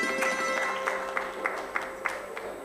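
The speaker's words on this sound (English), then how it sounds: "Let's have a round of applause" Audience applause at the 13th EU-India Smart Energy Workshop, a steady wash of clapping from a seated crowd with a few sharper individual claps standing out, moderately loud and without speech.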